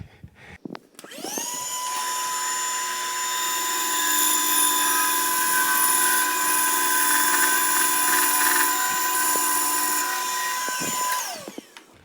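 A high-pitched power tool whines up, runs steadily for several seconds with a grinding, shaving edge on a wooden xylophone bar, then winds down and stops.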